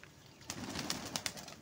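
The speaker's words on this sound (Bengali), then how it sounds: "বৃষ্টিতে ভিজে ওই একটা কবুতর একেবারে আধমরা হয়ে আছে" A pigeon soaked by rain coos faintly and at a distance. Scattered sharp ticks and brief bursts of noise come through a quiet, damp outdoor setting.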